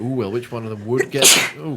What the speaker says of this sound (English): a sneeze. That's been brewing for like an hour.